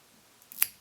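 Scissors give a single quick snip while trimming fly-tying material at the hook of a Troth super skater dry fly, a brief crisp close cut in an otherwise quiet moment.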